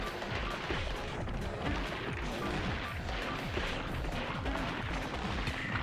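Dense, continuous barrage of small gunfire-like shots and bursts from the missile-firing cat mech in the retro game Gato Roboto, rapid rattling impacts packed tightly together at steady loudness throughout.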